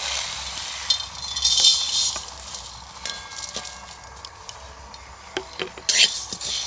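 Light clinks and scraping of a utensil against a metal wok, with scattered small taps as whole spices including black pepper are dry-roasted, stirred and tossed.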